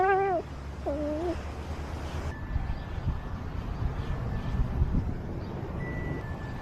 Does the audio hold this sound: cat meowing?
yes